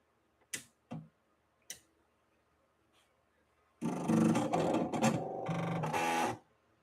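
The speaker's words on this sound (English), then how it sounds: "We'll do a little bit of sewing on this machine. We'll start with that straight stitch." A Husqvarna Viking 690Q sewing machine runs a straight stitch with Coats & Clark thread. A few sharp mechanical clicks come first, then a loud, steady close-up whir of stitching lasts about three seconds.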